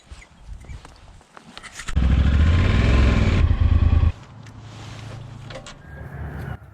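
A motorcycle engine idles, then revs loudly for a couple of seconds before dropping back to a steady low idle, close by.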